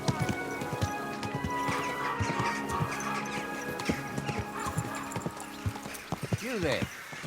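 Hooves clip-clop steadily at a walking pace in Kingdom Come: Deliverance 2, with a horse whinnying near the end over a busy game-like background of ambient noise.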